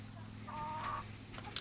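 Hens cluck softly inside a chicken coop, giving a few brief clucks and squawks over a low steady hum.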